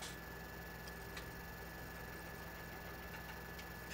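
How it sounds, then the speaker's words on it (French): A tractor engine labours up a slope on a farm in the Limousin, a steady low mechanical drone with faint ticking, running continuously at moderate distance with no talk. "j'aurais dû prendre un autre tracteur pour monter comme ça parce que il avance à rien celui-là"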